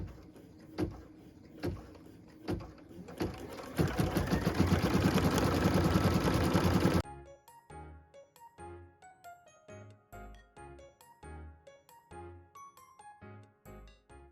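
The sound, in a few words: embroidery machine stitching star accent detail on ornament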